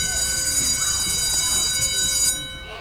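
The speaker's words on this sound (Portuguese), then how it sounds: "Desta vez, é o sinal da escola avisando que é hora de voltar para casa." A school bell signal announcing the end of the school day, a loud, steady electric ringing that holds without a break and then cuts off just before the end.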